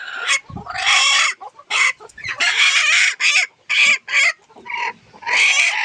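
Native desi hens cluck repeatedly on a village poultry farm in close, busy bursts with short gaps between calls, a rooster-like squawk mixed in, no one speaking.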